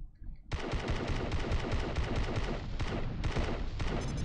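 Sustained rapid turret gunfire in a video game, a dense continuous stream of shots starting abruptly after a brief quiet moment and running to the end, loud and close with no talk.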